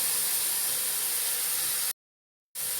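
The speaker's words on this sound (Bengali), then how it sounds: "এখন আমি এটা একটু তেলে সুন্দরভাবে ভেজে নেব" Cabbage and radish sizzle in hot oil for a noodle dish, a steady, close, dense hiss that cuts out abruptly for about half a second and then resumes.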